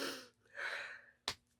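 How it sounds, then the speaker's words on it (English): A woman sneezes nearby, with breathy intakes building up before one short, sharp burst, all fairly quiet. "I'm gonna sneeze."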